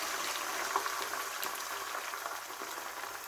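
Eggs with finely chopped Chinese toon (Toona sinensis) sizzle in a splash of oil, a steady, fairly quiet broadband crackle with faint pops, continuous throughout with no talking.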